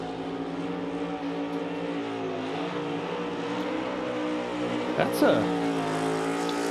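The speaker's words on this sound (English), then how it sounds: "that's an awesome burnout, Kev" A NASCAR Cup Series race car at Martinsville Speedway does a burnout: a steady, throaty engine drone holds throughout, then a brief sharper rasp of revving and tire scrub rises near the end, with a commentator talking over it.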